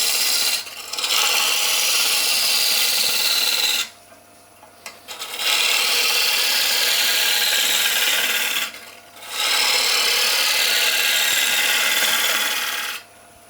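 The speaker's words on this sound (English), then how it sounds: "Now we're going to rough out our bowl shape." A gouge roughs out a wooden rice bowl spinning on a lathe, giving three long, raspy cutting passes of steady scraping and shaving, separated by short quiet pauses as the tool lifts away.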